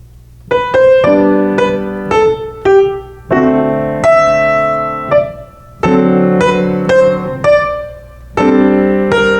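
Piano plays full block chords in a lilting waltz rhythm, each chord struck firmly and held, with brief gaps between groups.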